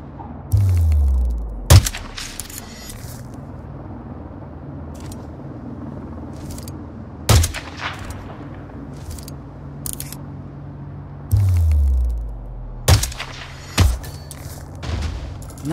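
Sniper rifle shots in the video game Hitman 2 ring out as sharp, loud single cracks with booming low tails, about four or five spread across the stretch over a quiet ambient background.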